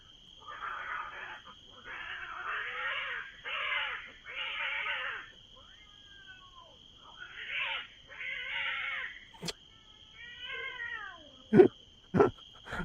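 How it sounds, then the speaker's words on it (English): Two cats fight with drawn-out yowls and caterwauling in repeated rising and falling bursts, followed by a couple of sharp hisses or spits near the end over a steady high-pitched hum. "A cat fighting."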